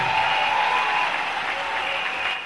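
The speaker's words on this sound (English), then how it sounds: "Clap again for Master Jesus." Steady, dense applause from a church congregation for several seconds, fairly loud and continuous with a crowd wash beneath it, no clear single claps standing out.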